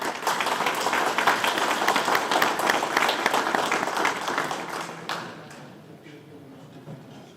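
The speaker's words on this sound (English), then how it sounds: "So please give a round of applause to the veterans' families." An anniversary awards audience applauds the veterans' families with a full burst of many hands clapping that tapers off into scattered claps and quiet room noise.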